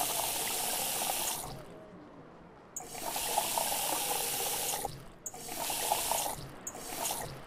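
Water pours in Cooking Simulator as a bottle is filled, steady splashing in three long bursts with short pauses between, and a brief word spoken over it.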